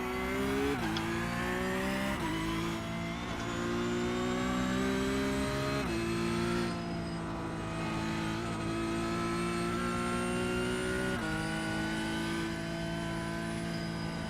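Porsche race car in iRacing, its engine revving hard and steadily climbing through the gears with sharp shift drops, loud and close throughout with no talk.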